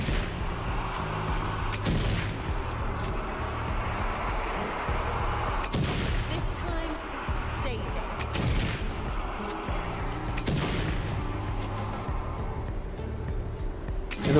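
Gunfire in the video game Zombie Army 4: several heavy, booming shots spaced a few seconds apart, standing out from continuous dense game noise.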